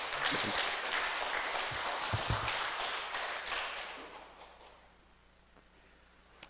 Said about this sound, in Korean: 감사의 박수를 드리면 고맙겠습니다